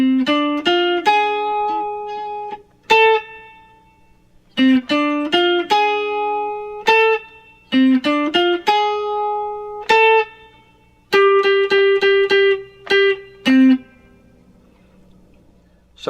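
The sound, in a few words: electric guitar playing a song melody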